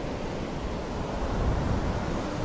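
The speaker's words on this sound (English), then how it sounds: "Loud up against the ocean here, eh?" Loud ocean surf crashing against the shore in the survival video game Survive the Nights, a dense, continuous roaring wash of waves heard close up with no voices.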